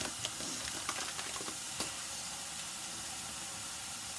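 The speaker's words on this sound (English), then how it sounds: "mix the rice dry in the frying pan" Dry risotto rice stirred in a frying pan with oil and juices, a steady close sizzle and hiss with a few scraping clicks of stirring early on, no talking.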